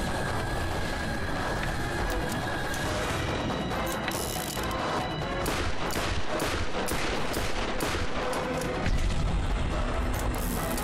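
Sustained gunfire against a monster in the Borderlands video game: loud, dense bursts of rapid shots with crashing booms, continuous across the stretch with no talk.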